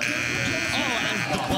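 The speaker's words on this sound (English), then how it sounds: "The buzzer." A loud, continuous electronic buzzer sounds at a live basketball game, a steady tonal blare held for the whole stretch over crowd noise and commentary.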